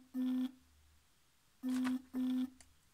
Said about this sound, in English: Sorry, I'm just getting notifications.